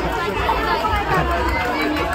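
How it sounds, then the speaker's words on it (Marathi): Dense crowd at the Satpati Ram Navami village fair, a steady babble of many voices and footsteps surrounding the listener, moderately loud with no single voice standing out. "पाहू शकता गाईज किती गर्दी आहे जत्रेमध्ये"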